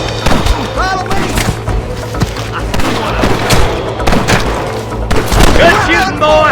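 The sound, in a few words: gunfire in Red Dead Redemption video game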